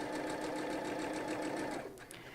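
Home sewing machine chain piecing fabric for a table runner, a steady close whirring stitch that runs continuously, then eases off near the end with a couple of faint clicks.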